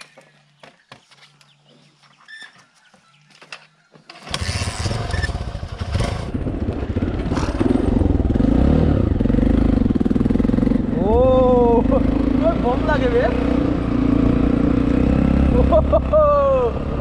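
A Hero Impulse dirt bike engine on an off-road trail in the Garo Hills of Meghalaya catches after a quiet stretch, then runs with a loud, steady, close rumble and occasional revs, with a voice briefly heard over it.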